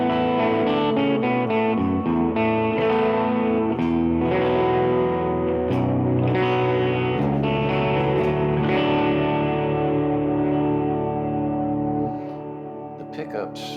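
Rickenbacker electric guitar on the middle pickup position, with a bright, mid-heavy tone played in sustained chords and picked notes, steady and close, fading out at the end.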